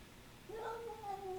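A cat outside gives a single drawn-out yowl that rises and then holds a wavering tone, faint and somewhat distant over a low background hum.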